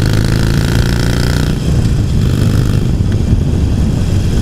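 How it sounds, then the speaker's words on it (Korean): Harley-Davidson Iron 883 motorcycle with the throttle opened, its engine and exhaust giving a loud, steady, deep rumbling drone close by, with a slight shift in tone partway through. "배기음과 엔진의 진동이 같이 운전자에게 전해지면서 굉장히 즐거운 운전의 느낌을 주고 있죠."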